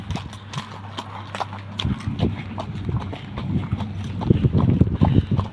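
Hooves of a ridden horse clip-clop in a steady walking rhythm outdoors, close and fairly loud, with wind buffeting the microphone.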